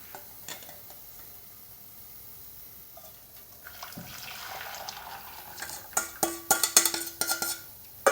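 Quiet kitchen sounds give way to chocolate pudding mix pouring into a pot on medium heat, with clinks and scraping utensil taps growing louder near the end.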